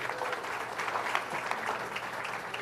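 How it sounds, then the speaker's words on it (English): An audience at a mayoral town hall meeting breaks into applause, dense and steady clapping from many hands that holds at an even level throughout. "give yourselves a round of applause"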